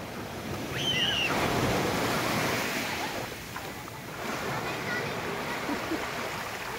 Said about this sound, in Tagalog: Nandiyan na, malaking alon.